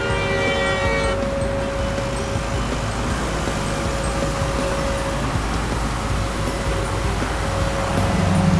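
Loud, continuous rumble of idling and crawling road vehicles in an animated cartoon traffic jam on a highway, steady throughout with a sustained horn-like tone; no distinct separate honks stand out.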